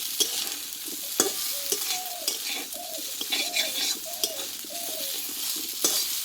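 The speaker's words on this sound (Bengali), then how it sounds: "বারে বারে নাড়াচাড়া করতে হবে যেহেতু বেসনটা আছে পুড়ে না যায়" Taro, potato and gram flour frying in a pan while being stirred repeatedly, a continuous close sizzle broken by frequent scraping strokes of the spoon against the pan bottom.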